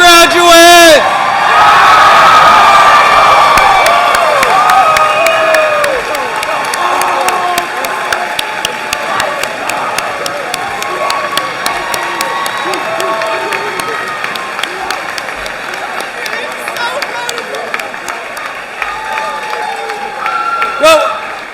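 A large crowd at the Triton High School 2023 graduation ceremony cheers, whoops and applauds loudly for the graduates, a dense sustained roar with shouting voices running through it that eases slightly toward the end.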